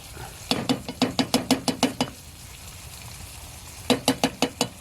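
Beans frying in a pan inside a hot tent get stirred in two quick runs of rhythmic scraping strokes, close and distinct, with a faint sizzle filling the pause between them.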